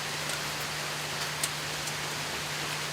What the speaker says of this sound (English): Rain's too loud.